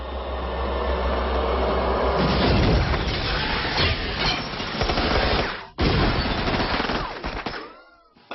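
Heavy machine gun fire in a dark room full of armed men in the action film Equilibrium, loud, dense rapid bursts with booming impacts that cut out briefly near the end, then resume.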